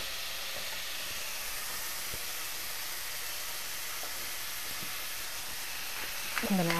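Meat searing in a hot pan on the stove gives a steady, fairly loud broadband sizzle and hiss that runs unbroken throughout, with a brief clatter near the end.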